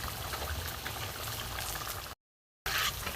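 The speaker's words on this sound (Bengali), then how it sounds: "একটু ফুটুক, তারপরে দেখাচ্ছি।" A thin catla fish curry with potatoes and vegetables boils in a pot, giving a steady close bubbling that cuts out briefly and then returns.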